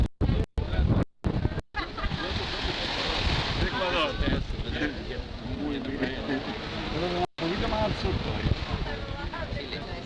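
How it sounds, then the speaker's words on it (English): Wind buffets the microphone on a cold, damp Mykonos coast, a constant blustery roar with a few dropouts, while people talk over it. "Cold, it's windy, it's damp."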